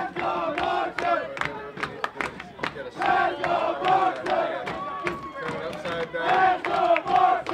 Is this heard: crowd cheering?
yes